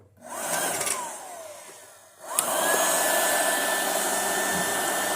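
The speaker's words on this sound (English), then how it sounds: "So I guess I got to turn it on. Right here. It's got a blower on it." Hot-air popcorn maker with a built-in blower starts up: a steady broadband whir of fan and rushing air that runs briefly, drops after a switch click, then surges back and holds loud and continuous.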